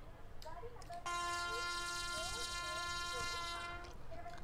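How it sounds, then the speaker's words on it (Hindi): A loud, sustained WAP-7 locomotive horn in the game Indian Train Traveller blasts for about three seconds on a steady tone, with faint voices before and after it. "ये वेब 7 का हॉर्न है"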